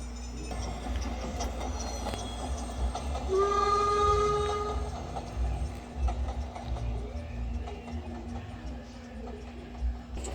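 A train bound for Kiev rumbles steadily along the rails with rhythmic clacking, and a horn-like tone rises briefly near the start.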